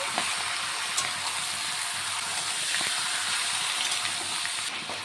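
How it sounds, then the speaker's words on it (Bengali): Mutton frying in a pan gives a steady, close sizzle of hissing and crackling that holds evenly for the whole stretch, with no one talking. "10 থেকে 15 মিনিট আমি মাটনটাকে কষিয়ে রান্না করে নেব।"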